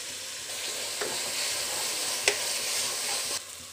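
Onion, tomato and mint frying in a pan with ginger-garlic paste for green peas pulao, a steady close sizzle with a few sharp stirring clicks and no talk.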